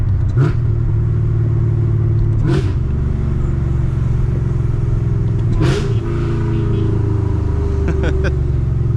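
A 900hp supercharged Z car rumbles loudly from inside the cabin, with sharp throttle blips as it downshifts and revs, and roughly four quick surges spread over a sustained engine drone.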